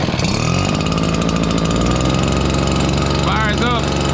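A Redmax EBZ7500 backpack leaf blower engine, choked and primed, fires up and runs smoky at a loud, steady, close idle with a continuous buzzing drone, while a voice talks over it.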